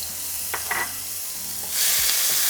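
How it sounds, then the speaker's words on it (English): A quarter onion, a Roma tomato and half a jalapeno hit hot oil in a pan: a faint hiss swells into a loud, steady sizzle partway through, with a few soft clinks, and no voices. "we're going to add 1/4 of an onion, 1 Roma tomato, and half a jalapeno"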